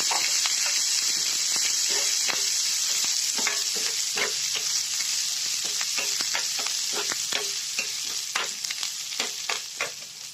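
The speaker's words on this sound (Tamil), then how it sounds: "ரெண்டு பச்சை மிளகாய், இஞ்சி, கொஞ்சம் வெங்காயம் சேர்த்து" Green chili, ginger and onion sautéing in a hot pan, a steady close sizzle with repeated scraping stir strokes throughout, no voices.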